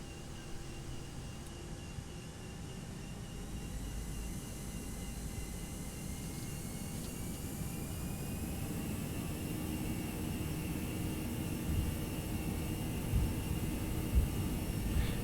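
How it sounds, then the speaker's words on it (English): A simulated airliner in X-Plane 11 takes off from Miami, its jet engine roar a steady, broad rush that slowly builds in loudness, with no talk. "let's take off from Miami and head on to Orlando."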